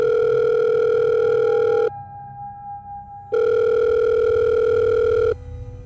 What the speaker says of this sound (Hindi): तभी उसकी अम्मी का फोन आया